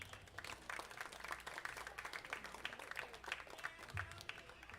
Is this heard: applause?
yes